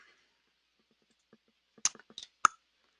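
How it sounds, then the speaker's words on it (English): A computer mouse gives a handful of sharp, close clicks, irregularly spaced and growing louder, in an otherwise silent room with no talking. "So, I'm clicking."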